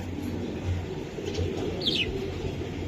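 A racing pigeon coos softly in low repeated notes, with a brief chirp and faint wing flutter around it against a steady background hum.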